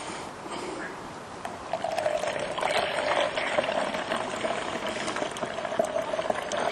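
Dirty water poured through a portable trekking water filter into a bottle, a steady close trickle and splash that grows louder after the first seconds and runs continuously.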